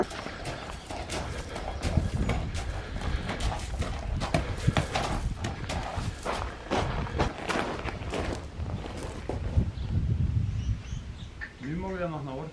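Hooves of a horse named Wednesday clip-clop in a steady, close walking rhythm while people talk over it and birds chirp faintly around, with a brief whistle-like call near the end.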